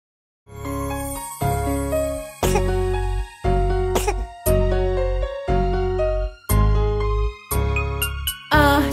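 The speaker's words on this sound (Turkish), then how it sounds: "görüyorum ki öksürüyorsun" A cartoon child coughs repeatedly in a children's song, several evenly spaced bursts over a bright musical backing with chimes and tinkling accents.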